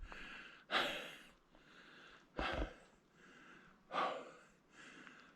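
A hiker pants hard at high altitude on a mountain trail near a 6,400-foot summit, with several heavy, rhythmic breaths and sharp inhales rising and falling close to the microphone.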